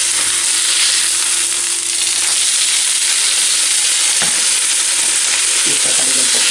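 A hake fillet sizzles on a griddle over baking paper, a loud, continuous frying hiss with faint crackles, steady throughout.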